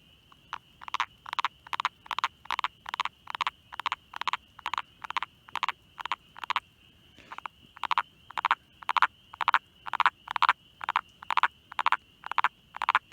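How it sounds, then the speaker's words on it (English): A male frog squeezed in hand at a vernal pool on a spring migration night gives a release call: a rapid, regular series of about thirty sharp chirping pulses, close and clear, with one brief pause midway. "he should give a release call."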